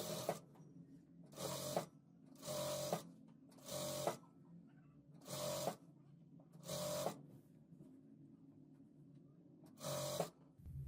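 A sewing machine stitches tucks on trousers in repeated short bursts of running, about seven close, loud runs separated by brief pauses, with no talking.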